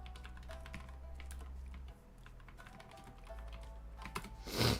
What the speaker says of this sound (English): You're gonna hear me typing a little.